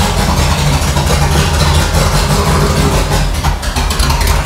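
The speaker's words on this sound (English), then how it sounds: "that's it running with no exhaust on" A classic Range Rover V8 runs with no exhaust fitted, starting for the first time after seven years. It gives a loud, raw, steady idle with harsh mechanical clatter, close up.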